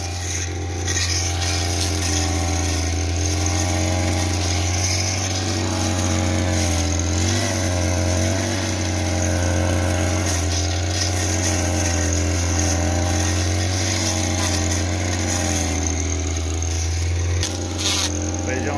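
A gasoline brush cutter clears pasture, its engine droning loud and steady with a high buzzing whine throughout. Slight shifts in pitch come as it works through growth, and someone talks over it.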